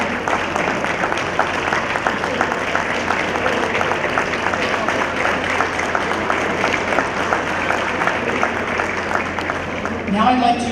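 Sustained applause from a crowd honoring alumni wrestlers and coaches at a high school wrestling match, a dense steady wash of clapping for the whole stretch with a slight swell near the end.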